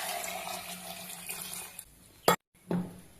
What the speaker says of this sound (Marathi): पाणी ओतत आहे मी ह्याच्यामध्ये